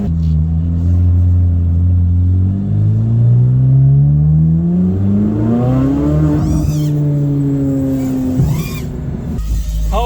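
A high-performance car held on the brake winds up to full throttle, engine drone climbing steadily in pitch over several seconds before a sharp shift and renewed roar, close and loud with no talk.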